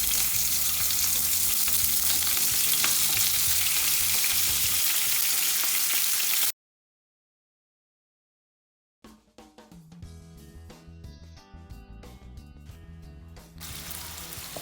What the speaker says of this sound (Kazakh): майды қыздырып, етімізді салып әбден қуырамыз.